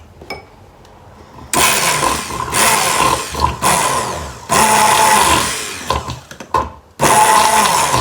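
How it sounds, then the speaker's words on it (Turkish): A hand blender whips homemade skin cream made with olive oil in a container, running in loud sustained bursts with brief stops between them, with no voices over it. "Şimdi tekrar blenderla çırpıyoruz."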